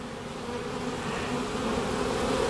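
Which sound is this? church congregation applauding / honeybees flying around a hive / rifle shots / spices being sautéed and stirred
honeybees flying around a hive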